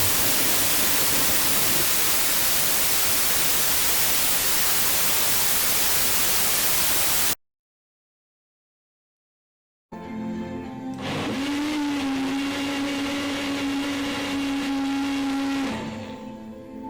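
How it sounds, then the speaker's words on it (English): A blender whirs loud and close through an apple juice mixture, a steady whining motor that runs several seconds and then stops, after an earlier stretch of broad hissing noise. "We're going to blend our mixture together."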